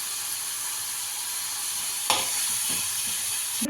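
Chopped tomatoes and four garlic cloves fry in a pan, giving a steady close sizzle throughout, with a few stirring scrapes and soft knocks partway through.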